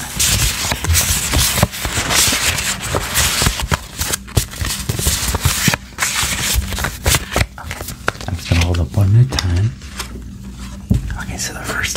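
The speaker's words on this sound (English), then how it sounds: "So I'm going to shuffle it." Paper cards printed with shapes such as a rhombus, pentagon, triangle, star and square are shuffled close to the mic in a soft ASMR setting, giving a steady papery riffle and rubbing under whispering.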